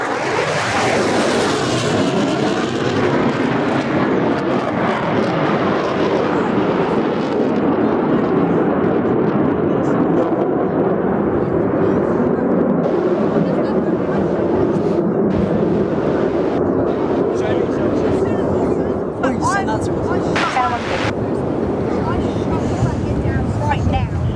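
Military jet on the downwind leg for runway 30 at RAAF Williamtown, a loud continuous roar as it passes overhead and then slowly fades. The sound is heavily buffeted by wind on the microphone.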